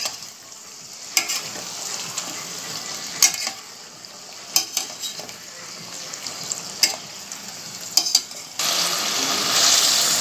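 Chicken kosha in a rich sauce is stirred in a pan, the spoon scraping at irregular intervals over a steady close sizzle that swells louder near the end.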